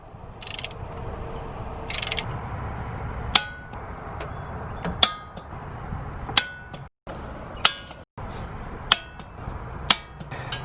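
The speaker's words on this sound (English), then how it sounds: "Get all the header bolts on. Time to torque them." A torque wrench tightens exhaust header bolts on a Miata, giving sharp metallic clicks at irregular intervals over a quiet garage background, with a couple of ratcheting rattles early on.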